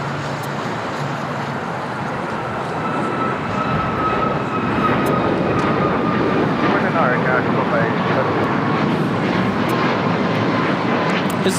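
A WestJet Boeing 737-800 arriving from Toronto comes in to land at LAX, a steady jet engine roar that swells slightly as it nears, with faint talk underneath.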